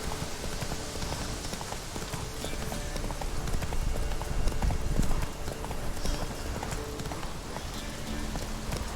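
Roach the horse galloping in The Witcher 3, a continuous rapid clatter of hooves on ground, close and steady with a slight swell midway, no talk over it.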